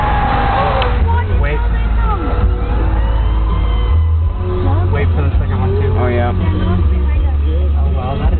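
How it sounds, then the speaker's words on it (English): Fire truck sirens approach a road crash scene, their wailing rising and falling in the middle distance beneath loud, continuous talk and passing traffic. "Fire trucks are on their way. You can hear them."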